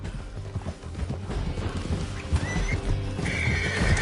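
A horse whinnies amid clopping hooves and busy background game sounds in Red Dead Redemption 2, close and lively, without speech.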